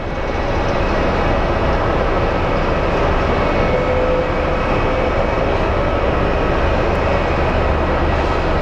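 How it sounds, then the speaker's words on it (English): Airliner arriving from Houston at Phoenix Sky Harbor Airport, a loud, steady broadband roar of engines and rushing air that holds constant throughout, with no voices. "And here comes our flight out of Houston."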